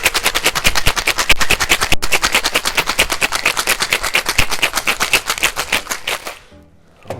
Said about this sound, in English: Give it a really good shake.